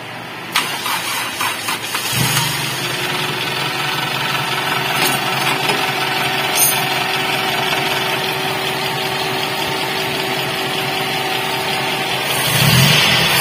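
A small carburetted engine cranks and catches after about two seconds, then idles at a steady, even buzz close to the microphone, with a few light clicks at the start and a soft thump near the end.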